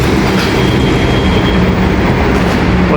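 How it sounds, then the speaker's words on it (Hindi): A metro train rumbles loudly and continuously at Gurgaon Cyber City station at night, a steady close rail roar with faint wheel clatter and a thin high whine. "और ये है मेट्रो"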